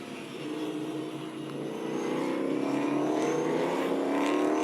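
An S5000 open-wheel race car drives a wet Phillip Island Grand Prix circuit, its engine a steady, loud drone that swells gradually as the car pulls out of a turn onto the front straight, with a faint spray hiss behind it.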